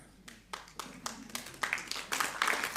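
Scattered clapping from an audience at a talk builds from a few separate claps into denser applause that grows louder over a few seconds.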